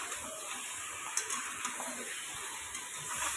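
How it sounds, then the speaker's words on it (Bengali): Fried potatoes are stirred into a sea crab curry in a pan, with a steady sizzle underneath and a few light scrapes and clinks of a spoon against the pan, close and fairly quiet. "এবারে না ভেজে রাখা আলুগুলোও দিয়ে দেবো এর মধ্যে, দিয়ে 1-2 মিনিট ভালোভাবে নাড়াচাড়া করব।"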